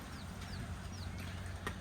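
Chickens in a group at close range, with a few faint high chirping calls over a steady low background hum; no talking.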